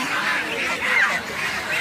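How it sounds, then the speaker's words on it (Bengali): Small Raja duck ducklings at a weekly livestock and poultry market peep and chirp in a busy, continuous chorus, high-pitched and close, with no pauses. "এই যে দেখতে পাচ্ছেন ছোট ছোট হাঁসের বাচ্চা"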